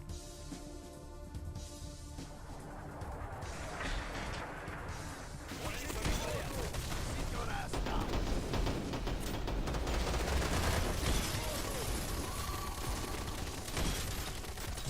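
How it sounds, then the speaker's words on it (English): A rotary grenade launcher fires shells in a video game, producing repeated heavy impacts and bursts that grow louder after the first few seconds, with someone talking underneath. "A rotary grenade launcher, which is actually different from James's, because this one you load shell by shell."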